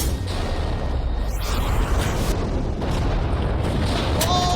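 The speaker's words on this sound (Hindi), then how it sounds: "तेज धमाका था।" A loud, sustained explosive rumble with heavy booming low end, continuous and dense throughout, like a large blast echoing, as a Lamborghini meets the world's largest shredder.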